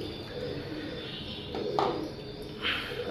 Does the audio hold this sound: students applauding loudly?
no